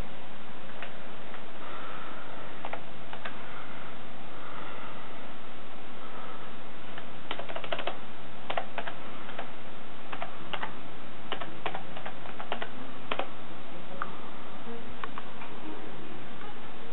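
Password being typed on a computer keyboard for a Debian GNU/Linux system running on a GameCube, heard as close, irregular clicking keystrokes in short bursts over a quiet background hum, with no talking.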